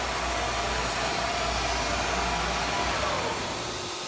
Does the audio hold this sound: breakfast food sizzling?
no